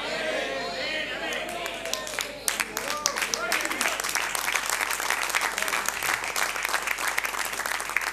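A church congregation applauds during a Sunday service in Santiago, Chile, with sustained dense clapping that builds and carries on steadily as the crowd murmurs beneath it.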